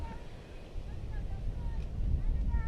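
Gusts of wind buffet the microphone at an outdoor cricket match, a rumbling low roar that swells louder toward the end, with faint background sounds above it.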